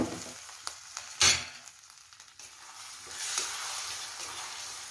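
Paneer chilli mixture with tomato ketchup sauce frying in a pan: a close, steady sizzle broken by a sharp spatula clatter, then a louder hissing burst as it is stirred.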